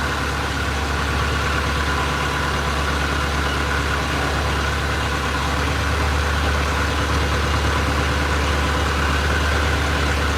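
Engine of a 32-foot Monterey Clipper boat running steadily, a continuous low idling drone with a constant hum, close and unbroken for the full stretch with no voices.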